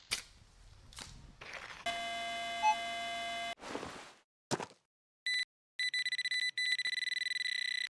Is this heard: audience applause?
no